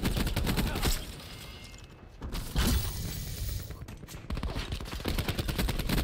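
Gunfire in a one-on-one gunfight in Call of Duty: Black Ops, rapid automatic bursts with shattering impacts, loud and close, broken by brief pauses and resuming in fresh bursts; faint voice may sit underneath.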